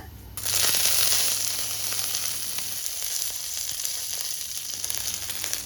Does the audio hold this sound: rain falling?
no